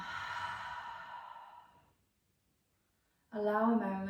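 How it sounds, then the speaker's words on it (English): Slow yoga breathing: a long, steady breath fades out over about two seconds into silence, then a voice begins speaking near the end. "Breathing in and breathing out."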